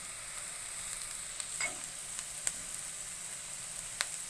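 Onions and green chillies sauté in a pan for soya bean masala, giving a faint, steady sizzle close by. A few light clicks of stirring cut through it now and then.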